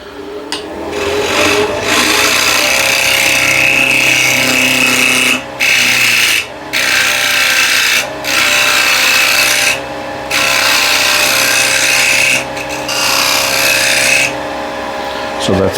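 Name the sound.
wood lathe turning a tenon on a bird feeder blank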